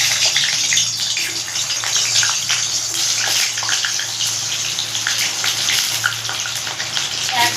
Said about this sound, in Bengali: সাদা তেল দিয়ে আমি ফ্রাই করবো আলুটাকে।